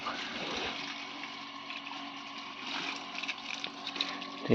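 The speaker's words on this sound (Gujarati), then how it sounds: "થોડોક ધોઈ લઉં રોટાવેટર" Water sprays steadily while washing a tractor rotavator outdoors, a continuous rushing gush with a faint pump-like hum beneath and a sharper splash at the end.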